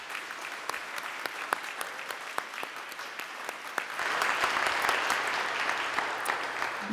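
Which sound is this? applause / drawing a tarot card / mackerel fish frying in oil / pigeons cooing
applause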